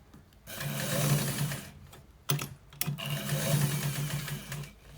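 A sewing machine runs close up stitching a white trouser, a steady rapid motor hum with a brief stop and a couple of sharp clicks midway before stitching resumes.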